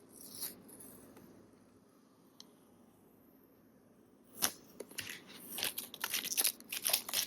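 Backing film peeled off a Nintendo Switch 2 screen protector, heard as quiet rustling followed by a burst of sharp, crackly peeling and crinkling sounds that grow louder toward the end, with no talk.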